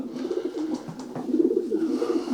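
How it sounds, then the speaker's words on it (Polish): Soft, low pigeon cooing repeats steadily in a murmuring rhythm, close by, with no talking. "I to jest gołąb"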